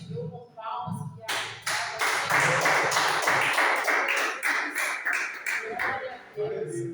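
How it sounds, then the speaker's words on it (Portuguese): A church congregation claps together to welcome the preacher, a dense, steady burst of applause lasting several seconds, with a voice speaking just before and after. "Receba o servo do Senhor com palmas"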